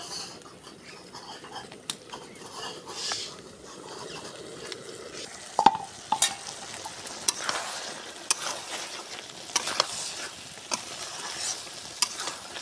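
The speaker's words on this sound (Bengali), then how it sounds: "তো বেশ কিছুক্ষণ পরে আমাদের সবজিটা ভালো করে নেড়ে চেড়ে দিচ্ছি।" A chicken and taro curry is stirred in a pan, a low simmering sizzle under soft scraping strokes and scattered clicks of the spoon against the pan, close and fairly quiet.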